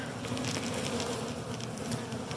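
Honey bees swarm through the air as they leave an old hive for a new Flow Hive, a dense, steady buzzing hum that holds close and constant with no voices.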